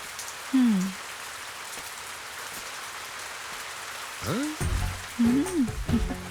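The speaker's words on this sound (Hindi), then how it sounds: "बेटा बारिश हो रही है" Steady rain falls throughout as a constant, fairly faint hiss, with a few short voiced sounds rising briefly above it.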